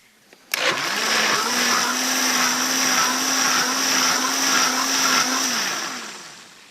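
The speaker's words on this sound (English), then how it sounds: "you can just put it in to the blender" A blender whirs loudly and steadily for several seconds after a click, its motor holding a constant high whine before winding down.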